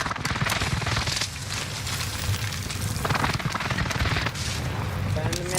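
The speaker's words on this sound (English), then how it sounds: "Enemy precision airstrike" Precision airstrike explosions hit in Call of Duty Warzone, a rapid barrage of blasts and crackling impacts. Dense, loud, and overlapping, they fill the whole stretch while a voice speaks faintly underneath.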